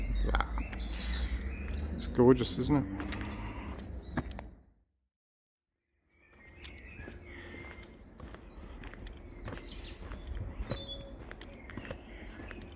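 Birds chirp and tweet in springtime woodland along the Cauldon Canal in Staffordshire, faint and scattered, beneath a person speaking briefly; the outdoor ambience drops out for a moment, then returns.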